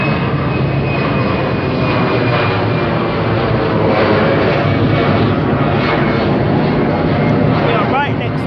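A loud, continuous jet roar of an airplane passing low overhead next to London City Airport, dominating the scene with steady broadband engine noise throughout.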